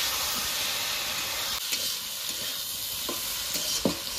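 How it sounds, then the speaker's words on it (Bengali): Taro stolons frying with ground spices in a pan, a steady bright sizzle and steamy hiss running throughout, with occasional scraping strokes of a spatula stirring them, no voices. "এবার ভালো করে লতির সঙ্গে নেড়ে চেড়ে কষিয়ে নেব মশলাগুলোকে"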